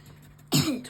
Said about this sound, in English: Stop coughing like that.